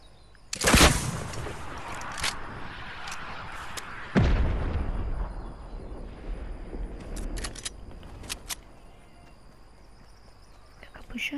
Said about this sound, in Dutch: Daar zijn ook nog schoten.